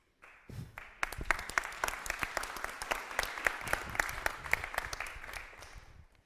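An audience applauding at a dementia forum, a burst of dense clapping that rises quickly, holds steady for several seconds, then tapers off.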